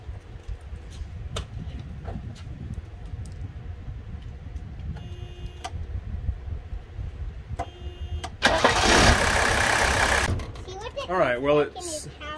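A Mercedes OM617 diesel engine after injector cleaning, heard close with low rumbling and clatter under wind noise, scattered ticks and clunks, then a loud burst of roaring as it starts and runs, with people talking at times.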